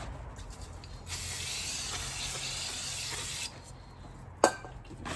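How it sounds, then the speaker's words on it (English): Brake cleaner sprayed from an aerosol can onto new brake discs during strut mount work on a VW Golf MK2: a steady, close hissing spray of a couple of seconds, then a brief final spurt, with no talk. "just use some brake cleaner in a can"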